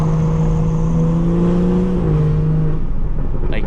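A car engine hums steadily near the mic, its pitch dropping as it shifts gears, then easing off toward the end.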